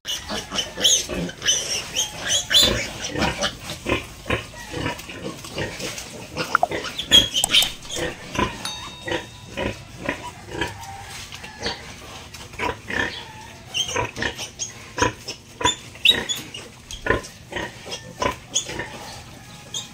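A piglet squeals repeatedly on a farm during castration, with loud, piercing bursts in irregular succession over the full stretch, close by.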